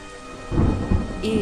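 A rain-and-thunder sound effect from an animated Hindi story: steady rainfall with a low rumble of thunder rolling in beneath it, fairly loud and continuous, with no voices.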